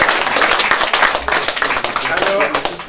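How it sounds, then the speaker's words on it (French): Audience applause at a tribute event, dense clapping that holds steady throughout, with voices mixed into it. "On applaudit François Lula."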